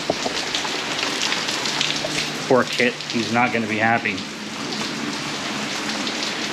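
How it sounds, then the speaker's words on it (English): Steady rain pattering outside during work on a 2009 Chevrolet Aveo's catalytic converters, a continuous hiss of drops throughout, with someone talking briefly over it midway. "excuse the noise, it's raining now."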